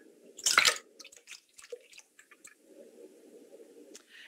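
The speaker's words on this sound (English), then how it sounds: "all you need to do from here is just pour your slurry in." Paper pulp slurry poured for homemade papermaking lands with one sharp splash, then scattered drips and soft wet squishing trail off over a few seconds.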